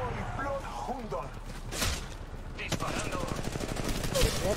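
Rapid bursts of automatic gunfire from the mobile battle royale game Apex Legends Mobile, clustered shots crackling over game audio while someone talks in Spanish throughout.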